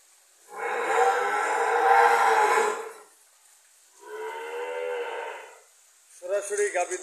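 Three long, loud cow moos on a dairy farm in Gaibandha, where desi milking cows are kept; two sustained calls are followed by a shorter, rougher one, close to the listener with no talk over them.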